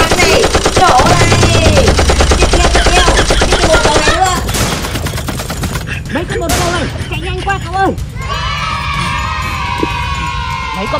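Rapid gunfire rattles loudly in a Skibidi Toilet video game, mixed with shrill game effects and crowd-like noise, while a voice talks over it.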